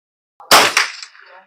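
A single sharp .22 LR rifle shot fired with high-velocity ammunition during a test, loud and close, cracking sharply and then fading into a short echoing tail.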